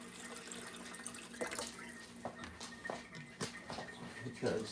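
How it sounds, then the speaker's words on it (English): Water running from a tap into a bucket, a steady close flow with splashy surges, heard under talking voices and scattered clattering. "along with the water bucket filling"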